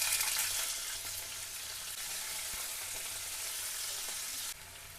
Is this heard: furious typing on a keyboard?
no